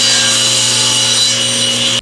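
A wooden sanding block being sawn to length in a woodworking shop, a loud continuous power-saw whine with a steady hum that cuts off abruptly at the end.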